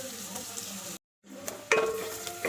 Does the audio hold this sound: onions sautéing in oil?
yes